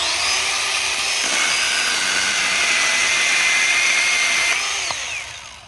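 Milwaukee M12 Fuel Hatchet cordless saw cutting wood, a loud close whining buzz held steady for about five seconds before winding down.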